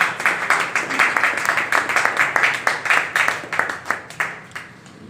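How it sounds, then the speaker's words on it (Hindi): An audience at a Nav Samvatsar 2080 celebration in Kanpur claps, uneven bursts of hand claps forming a choppy, pulsing rhythm that slowly thins and fades toward the end. "और आप लोग तालियां बजाएं जोरदार।"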